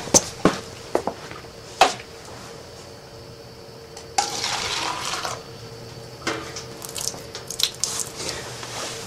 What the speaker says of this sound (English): here's extremely hot water, courtesy of our kitchen